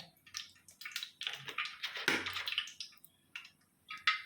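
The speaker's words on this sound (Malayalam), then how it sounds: "ഉരുളിയിലിപ്പോൾ എണ്ണയാണ് ഒഴിച്ചു കൊടുക്കുന്നത്" Oil poured into a heavy uruli cooking vessel for making mango pickle, giving a soft, uneven trickling and sizzling wash with small splashes over about four seconds, close and fairly quiet.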